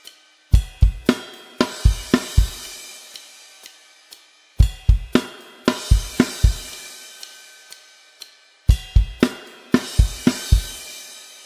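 Rock drum kit playing the final chorus variation of a song: three repeated phrases of punchy kick and snare hits with crashing cymbals ringing out between, loud and close, with no talking.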